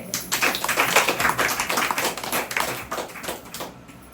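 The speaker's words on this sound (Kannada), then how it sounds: "ಒಂದ್ಸರಿ ಜೋರಾಗಿ ಚಪ್ಪಾಳೆ." Loud clapping from an audience at a meditation session, a dense burst of many hands applauding together that holds steady for several seconds and then slowly thins out.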